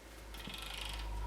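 A 1-inch socket on a ratchet wrench clicks steadily as it turns the adjusting sleeve nut on a 1980 Chevy Silverado Dana 44 front axle, a soft, quick run of ratcheting close up over low background hum.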